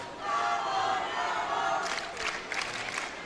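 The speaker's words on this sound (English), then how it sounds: "We've got a little bit of a chanting contest happening on either side of the house." Arena crowd at a men's roller derby final chanting from both sides of the house, a dense roar of voices that breaks into rhythmic shouted bursts in the second half, loud and enveloping.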